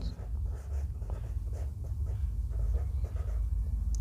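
A pen scratches steadily close by as a math solution is written out by hand for a class 8 geometry exercise. The faint, continuous strokes carry on without any talking.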